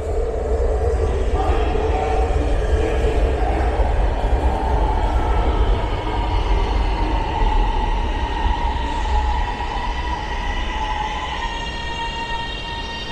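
A Lahore Orange Line metro train running, a steady loud rumble and rolling hum with rising whine tones toward the end, heard from on board with no talk.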